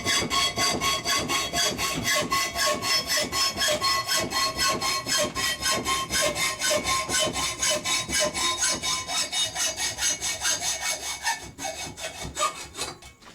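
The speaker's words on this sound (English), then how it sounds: "Just take my hacksaw." A hacksaw cuts through metal stock clamped in a vise, giving a steady, rhythmic rasp of even back-and-forth strokes, close and loud throughout, slowing slightly near the end.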